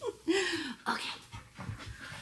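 Snicker, a pet dog indoors at home, pants in quick, breathy bursts close by, with a brief whimpering whine near the start.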